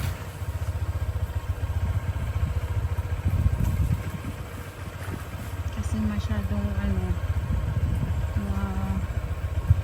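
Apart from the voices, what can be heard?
motorcycle engine running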